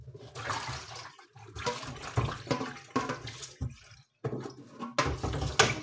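Running tap water while dishes are washed, a close splashing gush that surges and drops with short breaks, no talking.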